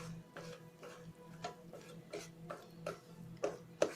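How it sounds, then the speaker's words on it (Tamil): Mashed bread is stirred with powdered sugar in a pan for bread halwa, giving soft, irregular scrapes and taps of a spoon against the vessel, quiet and close. "சீனியை கொஞ்சம் கொஞ்சமாக சேர்த்து நம்ம இப்போ நல்லா கிளறணும்"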